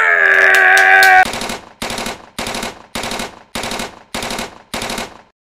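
A toy gun that doubles as a microphone blasts loud electronic machine-gun fire: a long continuous burst, then six evenly spaced short rattling bursts, close and with no talk.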